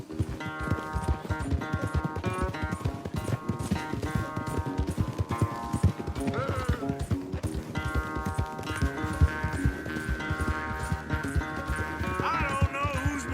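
Horses gallop in a race in Red Dead Redemption 2, with rapid rhythmic hoofbeats pounding steadily throughout, overlaid by harness jingles, a whinny and music, and voices talking over it.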